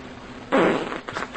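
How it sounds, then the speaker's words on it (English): A person sitting in pudding lets out a loud, close fart that starts abruptly and sputters on for about a second, with a final short burst at the end. "Come on, fart."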